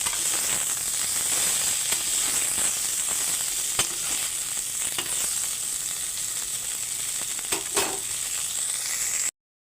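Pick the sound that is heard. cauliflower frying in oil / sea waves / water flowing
cauliflower frying in oil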